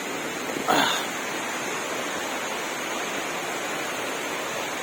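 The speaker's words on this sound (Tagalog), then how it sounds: "Ito yung mga small falls na kadugtong niya." Small cascades near Mae Pan Waterfall in a Chiang Mai forest make a steady, broad rushing wash. It continues unchanged throughout, with one brief rustle near the start and no talk.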